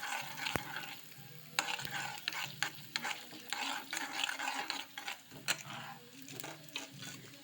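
Black pepper and cumin spices sizzling in hot oil in a pan, stirred with a spoon that scrapes and clinks against the metal in irregular strokes, close and steady with no talking.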